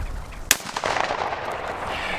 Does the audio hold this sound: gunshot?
yes